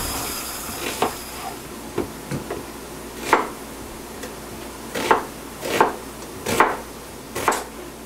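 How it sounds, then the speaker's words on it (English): A knife chops onions and mushrooms on a cutting board in a home kitchen, making a series of irregular, sharp thuds close by over a soft steady hiss, without talk. "we're just going to get the mushrooms cut up"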